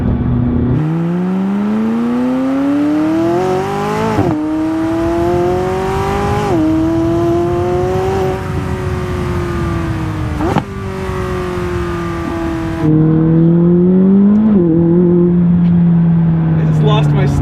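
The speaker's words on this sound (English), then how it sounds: "I just lost my stomach accelerating so hard." A McLaren 600LT accelerates hard through a rapid series of gears, each loud rising engine wail cut short by a quick shift, repeated about six times, close and intense.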